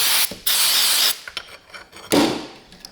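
Two loud, close bursts of aerosol cleaner spray hiss onto drum brake parts of a 1941 Chevy coupe on a bench rag, separated by brief handling clicks and rubbing noises.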